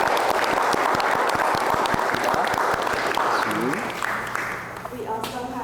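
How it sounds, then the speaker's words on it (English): An audience applauds after a visual arts panel, a loud dense clapping crowd that carries steadily, then thins and tapers off near the end as a voice briefly comes through. "you all deserve the next round of applause"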